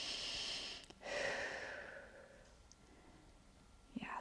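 Slow breaths taken while holding a standing hamstring stretch against a kitchen counter, a long soft exhale followed by quieter breathing, close and gentle with no talking.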